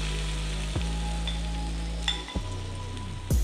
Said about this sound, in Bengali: কড়াইয়ে তেলও চাপিয়ে দিয়েছি, তেল হয়ে গেছে। এবারে এর মধ্যে আমি পেঁয়াজিগুলো দিয়ে দেব।